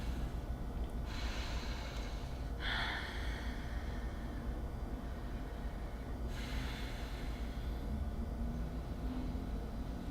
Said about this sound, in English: You might notice you're breathing. Mine's a little fast right now.